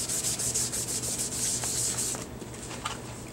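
A paint-laden sponge is rubbed against scratch paper in quick, rhythmic scrubbing strokes, close and fairly loud, then the strokes slow and soften into a few lighter swipes.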